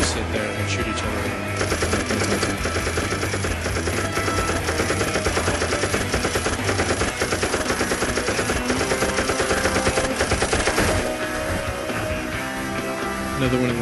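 Rapid automatic gunfire and shooting effects from a third-person multiplayer video game where players buy ammo for weapons, a dense continuous barrage of bursts layered with game music and effects, loud throughout.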